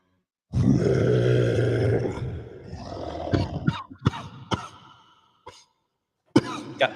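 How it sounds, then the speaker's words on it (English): A deep, rough, hacking smoker's cough repeats several times, loud and close, with gravelly grunts and throat clearing between the bursts. "Got that smoker cough"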